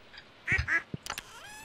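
Cartoonish duck quacks from farm ducks in the Stardew Valley video game, a few short quacks close together followed by soft chirpy game sound effects, fairly quiet.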